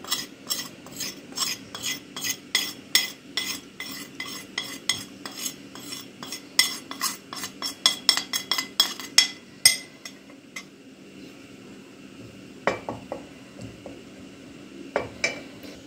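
Flour being stirred in a metal pot for kachi, a sweet Persian pudding made with rosewater and saffron: a spoon clinks and scrapes the pot in quick, irregular strokes up close, slowing to a few scattered clinks near the end.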